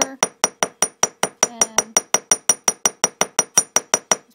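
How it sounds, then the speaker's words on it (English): Steady, evenly spaced metallic taps of a hammer on wire for handmade earrings. About twenty bright, ringing strikes arrive at a regular rhythm, close and loud, with a brief spoken word partway through. "And then I flip the hammer over"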